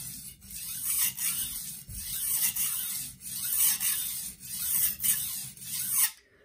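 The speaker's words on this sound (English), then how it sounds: "whenever I'm sharpening a knife that has a fairly steep belly, I'm going to use full sweeps," A steep-bellied knife is sharpened freehand on a stone with full sweeps, producing loud rhythmic rasping strokes, about eight long scrapes in steady succession, close and alone before stopping abruptly.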